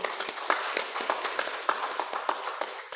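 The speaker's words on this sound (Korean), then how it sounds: "큰 박수 주시기 바랍니다" Applause from a small congregation at a Won Buddhist temple's regular Sunday service, scattered individual claps forming a moderate, steady patter at middle distance.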